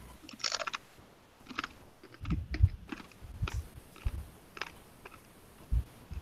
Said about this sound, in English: Sounds like they got good crunch to them yet.